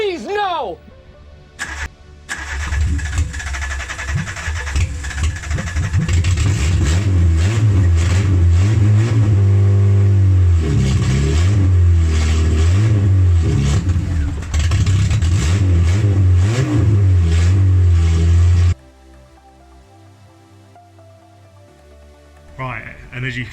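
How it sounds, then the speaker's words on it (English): A Peugeot 106 engine sputters, starts and revs loudly and repeatedly, the revving rising and falling before dropping to a quieter idle; voices shout over it. "we've managed to get this car started after the crazy amount of time"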